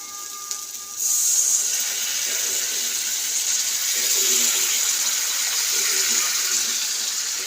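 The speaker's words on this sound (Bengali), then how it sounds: "1 কাপের মতো জল দেব। জলটা দিয়ে দিই" Water pouring from a container into a pan of paneer curry, a steady close hissing splash that starts suddenly and continues for several seconds.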